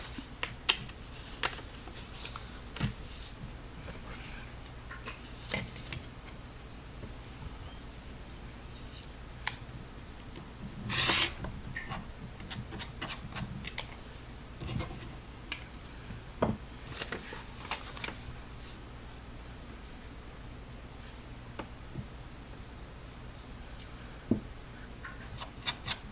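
Quilt fabric is trimmed in a quiet room, with soft scattered snips, rubs and taps of cutting on a mat coming in irregular bursts, faint and close.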